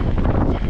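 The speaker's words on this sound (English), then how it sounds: "Oh, a gust of wind and a pop." A loud gust of wind buffets the microphone during a mountain bike ride on a Nevada ridge, a dense continuous rumble filling the short moment with no voices.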